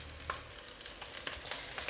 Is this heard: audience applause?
no